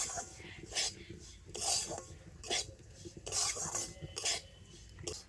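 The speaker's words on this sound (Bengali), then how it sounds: "তো ঘিয়ের সাথে সুজিটা কিন্তু ভালো করে ভেজে নিতে হবে।" Semolina toasting in ghee over very low heat for a semolina sweet, with repeated scraping and stirring strokes of a utensil against the pan and a faint sizzle beneath, close and fairly quiet, no talk.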